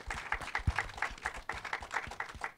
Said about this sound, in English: Can we just have one more round of applause?